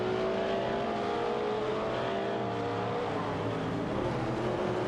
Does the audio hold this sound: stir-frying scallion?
no